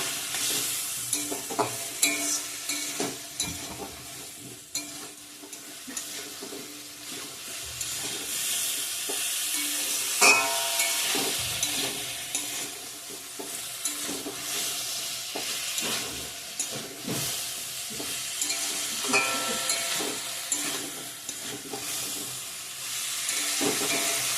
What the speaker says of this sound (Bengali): ভিজে রাখা আলু ফুলকপিগুলো দিয়ে দিব এখন আবার ভালো করে কষিয়ে নেবো